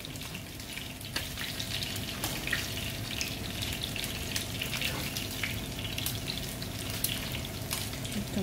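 Kushary ingredients being mixed in a pot, a steady wet stirring and scraping texture with faint sizzle, continuous and fairly close with small clinks scattered throughout, no voices.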